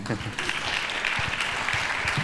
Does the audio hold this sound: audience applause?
yes